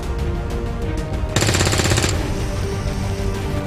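Gunfire aimed at a Viper alien in XCOM 2, one short, loud rattling burst of rapid shots lasting under a second over steady game background noise.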